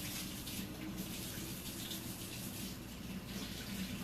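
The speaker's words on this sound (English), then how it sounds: "Now I'm going to wash my hands because I will undoubtedly touch my eye." Hands being washed under a running kitchen tap, a steady close rush of water with faint splashing, continuous and without speech.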